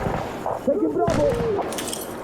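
Gunfire from the PvP shooter Insurgency Sandstorm: a few loud, sharp bursts of shots in quick succession mixed with battle noise, heard under someone talking over voice chat.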